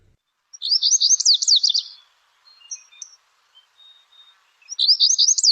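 A lazuli bunting near Lake Tahoe sings two bright, high, buzzy warbled phrases a few seconds apart, clear and close, with faint softer chirps between them and otherwise near silence.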